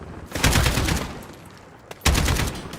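Gunfire during a Call of Duty Modern Warfare campaign mission, two loud close bursts of rapid shots separated by a quieter lull and a single sharp crack.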